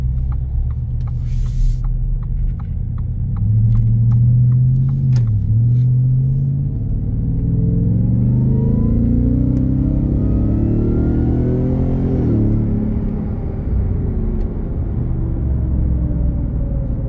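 A 2023 Ford F-150 Raptor R pickup truck engine revs and accelerates steadily in sport mode, a low rumbling drone that rises in pitch, close and loud, with no talking.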